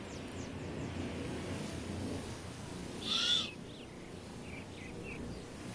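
A great horned owl gives a single short hoot in a quiet outdoor setting, faint against a steady background hiss, with a few distant bird chirps nearby.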